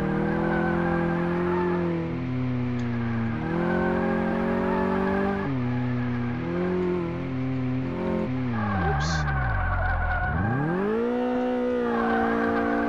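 In the Car Mechanic Simulator 2018 video game, a car engine drones and revs through gear changes during a brake test, then the tires squeal as the car brakes hard and the engine picks up again, loud and continuous.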